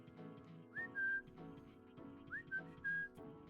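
Whistling calls animals in the video game Animal Shelter Simulator 2: two short rising whistles, each followed by a held tone, sound quietly over soft background tones.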